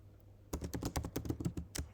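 Rapid clacking keystrokes on a computer keyboard while entering code, about a dozen close, crisp taps in quick uneven succession with no voices.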